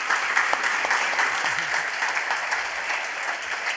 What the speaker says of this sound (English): I can ask you to give a round of applause to all the speakers